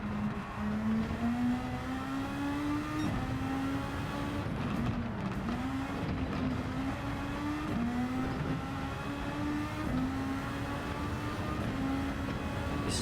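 Super Formula 23 open-wheel race car lapping the Nurburgring in Gran Turismo 7, its engine droning loud and steady at high revs, pitch climbing through each gear and dropping briefly on upshifts and braking.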